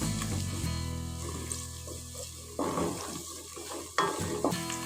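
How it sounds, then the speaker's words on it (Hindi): Chopped onions and red-coloured green chillies frying together in a pan, a steady close sizzle with scraping stirs and a couple of louder clatters, no talk. "इसमें हम हरी मिर्ची डाल देंगे, लाल वाली, और इसको भी फ्राई कर लेंगे प्याज के साथ।"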